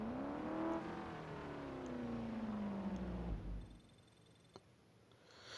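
A McLaren P1 accelerating at full throttle in the racing game Need for Speed No Limits, a loud engine whine climbing through the revs and dropping on a shift, then cutting off to quiet.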